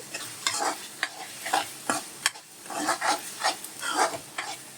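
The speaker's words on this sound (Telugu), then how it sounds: "ఇదిగోండి కర్రీ ఇలా వేసి ఇలా వేయించుకోవాలండి" Andhra-style goat head meat curry is fried and stirred in a pan, with a steady rhythm of close spatula scrapes over continuous sizzling and no talking.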